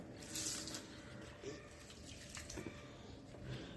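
Rice-washing water splashes and trickles as it is poured onto the bases of potted plants, a soft, uneven stream with faint drips.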